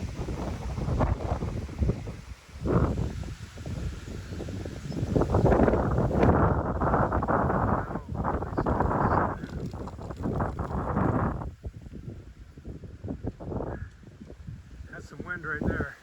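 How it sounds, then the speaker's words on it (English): Strong wind blows across an open coastal yard in Nova Scotia, a heavy roaring buffet on the microphone that surges and eases over the whole stretch, with someone talking briefly over it. "Some wind right there."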